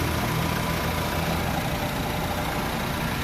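A Honda Civic 1.8 automatic engine runs after its sensor was cleaned, a close, steady idling rumble with an even drone and no speech.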